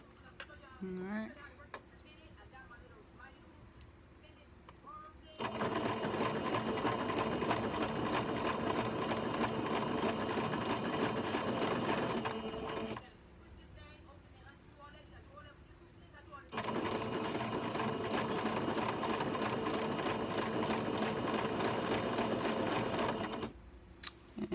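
A sewing machine back stitching on ribbon, running in two steady whirring bursts of about seven seconds each, separated by a quiet pause with faint handling sounds.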